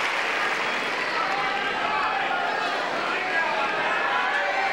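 A tennis crowd at the US Open applauds in a steady, dense wash of clapping that holds evenly throughout, with a commentator's voice running over it.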